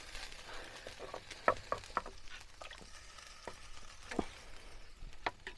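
Snakehead fish pieces cooking in a pan over a village-style fire, giving a low steady sizzle with scattered clicks and scraping stir sounds, fairly quiet and with no talking.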